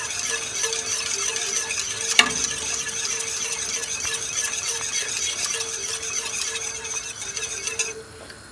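Elderberry jelly with pectin bubbling at a rolling boil on a gas stove while being whisked: a steady hiss and crackle with a high squealing tone, one sharp clink partway through, no voices.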